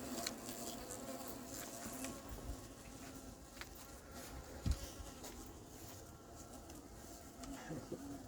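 A hornet buzzes around bee hives in an apiary, a continuous close droning hum with other insects humming faintly in the background.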